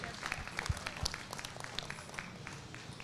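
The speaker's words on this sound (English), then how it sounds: "Give them a big round of applause for all they do here at Rodeo Austin for our youth." Scattered, fairly faint applause from a crowd at Rodeo Austin's breeding heifer show, with distinct individual claps spread loosely through a roomy arena rather than a dense ovation.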